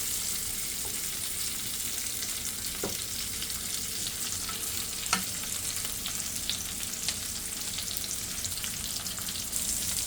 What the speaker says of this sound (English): Get them onions cooked down a little more there